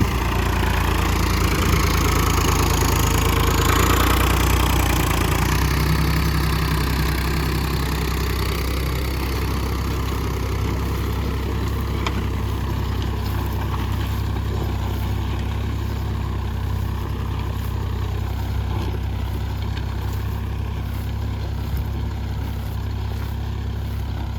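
A steady, loud Massey Ferguson 255 tractor engine idling close by, with a constant low rumble and mechanical hum throughout, no voices.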